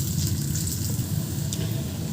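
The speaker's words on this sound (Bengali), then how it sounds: "পেঁয়াজটা ভাজা ভাজা হয়ে গেছে।" Onion fries in oil with salt for an egg mince dish, giving a dense, continuous sizzle with faint stirring, close and fairly loud, no voices.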